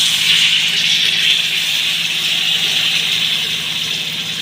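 Ground masala water from a mixer jar is poured into a cooking pan, giving a steady, close rushing gush of liquid that runs evenly for several seconds with no talking.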